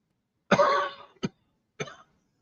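A man coughs close to the mic: one longer, harsh cough followed by two short, sharp coughs in quick succession, with silence between.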